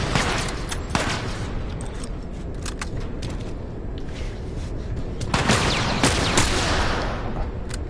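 Gunfire in The Last of Us, a steady fusillade of sharp, loud shots crackling through the whole stretch, with denser bursts clustered near the start and again toward the end, and no talking.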